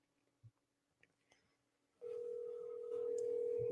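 A telephone dial tone on an outgoing phone call, a steady continuous hum that starts abruptly after a few faint clicks and holds unbroken to the end.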